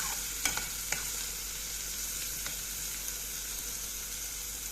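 Onion, garlic and green chili peppers frying in a spoonful of oil, stirred in a pan with a constant close sizzle and a few sharp spoon clinks near the start.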